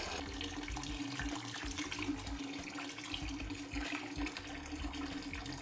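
An aquarium gravel vacuum siphons water from a tank: a faint, continuous trickling and gurgling flow.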